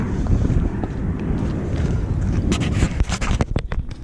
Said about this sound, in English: It's a little bit breezy out.